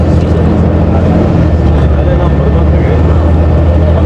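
Steady low engine drone inside a bus as it moves off, loud and continuous, with no clear speech standing out.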